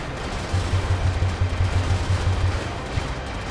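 Rapid gunfire from the mech combat video game Brigador, a sustained burst of heavy booming shots and explosions blasting a target, loud and continuous without talk.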